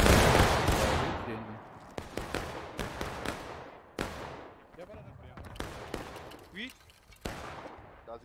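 Musket volley fire in the Civil War video game War of Rights: loud, sharp gunshots crack out irregularly, a heavy initial volley followed by scattered single shots, with voices talking beneath.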